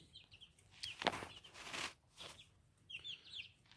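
Chickens and young chicks in a coop give several close clucks and squawks in short irregular bursts, with a brief flurry of wing flapping partway through.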